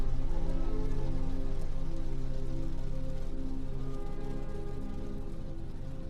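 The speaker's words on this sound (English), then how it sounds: "the gentle sound pattern of water droplets" Raindrops fall steadily on a surface, a dense, even patter of water droplets that stays close and continuous, fading only slightly over several seconds with no voices.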